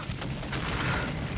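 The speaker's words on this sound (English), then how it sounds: "That was really a great explosion" A huge movie explosion effect from Friday the 13th Part VII, set across the water, gives a sustained broadband roar with heavy low rumble and a hissing, rain-like spray of falling debris, loud and even throughout.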